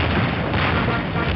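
Rocket explosion in Garry's Mod during a rocket jump, a loud, dense boom with a heavy low rumble filling the whole short moment.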